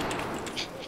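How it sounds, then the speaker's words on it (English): A Desert Eagle fires in Battlefield 4 team deathmatch, a brief loud crack with a sharp follow-up burst, heard within less than a second. "that deagle shot"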